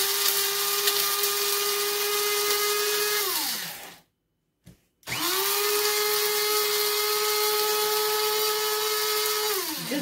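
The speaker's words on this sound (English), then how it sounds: "Now just cover and grind." An electric spice grinder runs on turmeric, coriander, fennel and cardamom seeds, a loud steady high whine that winds down, stops briefly, then starts again and runs steadily.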